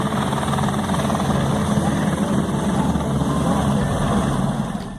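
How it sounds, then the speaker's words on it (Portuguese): Helicopters land and take off nearby, a loud continuous rotor thump and engine whine holding steady, with a voice faintly present beneath. "Helicópteros pousando e decolando a todo momento onde a bola rolava."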